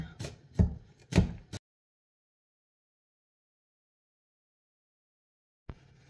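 A knife finely chopping garlic on a board: three quick, crisp strikes close by, then silence, and one last short tap near the end.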